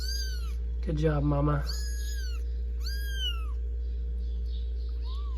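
Several farm cats meow repeatedly in high, drawn-out cries close by while being petted, with a person briefly speaking over them amid a steady low hum.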